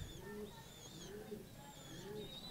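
Pigeons kept by a pigeon fancier coo in soft, low, rounded phrases that repeat several times, with faint chirps and a little background noise around them.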